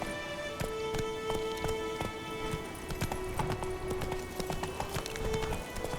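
Roach the horse in The Witcher 3, hooves clip-clopping in a steady trotting rhythm close by, continuous throughout over faint game ambience, with no talk over it.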